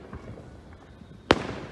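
A Fourth of July firework bursts with a single sharp, loud boom near the end, after a stretch of faint distant crackles and low ambient noise.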